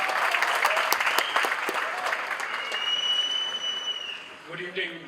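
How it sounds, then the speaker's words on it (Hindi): Audience at a celebrity event honoring a playback singer's 50 years applauds loudly to welcome actor Rishi Kapoor, clapping that swells then fades, with a voice over a microphone speaking as the applause dies down. "ऋषि कपूर जी का जोरदार ताली से स्वागत"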